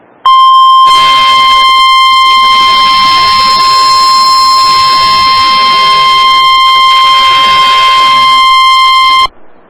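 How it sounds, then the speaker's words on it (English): A loud, steady single-pitch NOAA Weather Radio warning alarm tone, sounded as a test, blares continuously for about nine seconds, then cuts off abruptly. "This is a test of the National Weather Service NOAA Weather Radio All Hazards Warning Alarm System"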